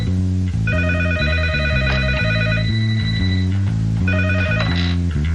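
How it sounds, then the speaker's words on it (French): A telephone rings in a home, loud, close bursts of electronic bell tones in a repeating pattern, two ring cycles heard with a short gap between them. "Téléphone?"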